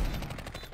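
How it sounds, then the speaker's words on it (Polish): Revolver gunfire in the video game Counter-Strike 2, a rapid run of sharp, close shots with a ringing tail, loud and dense throughout the short burst. "Merwo, wyrewolwerowałeś go, ale jednym strzałem"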